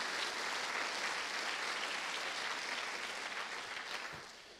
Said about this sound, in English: I want you guys to give a really big round of applause for them